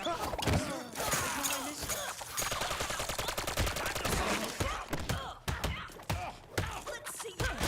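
Rapid bursts of Uzi fire from guards in the video game Arkham Knight, a dense fusillade of sharp cracks and chattering volleys mixed with thuds, continuous and fairly close, with a voice talking over it.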